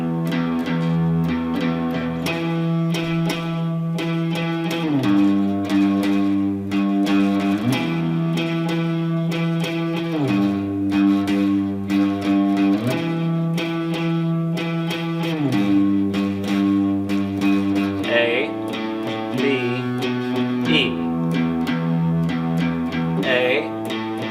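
Distorted electric guitar playing the riff-driven intro of a song, loud and sustained with repeating chord patterns and a steady rhythmic pulse throughout, heard alone without talk.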